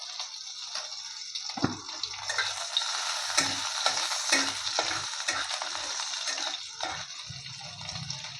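Chopped green chilies and ginger sizzle and fry steadily in hot oil in a pan while dal is cooked, with occasional stirring scrapes over a continuous crackling hiss.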